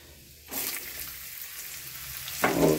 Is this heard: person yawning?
no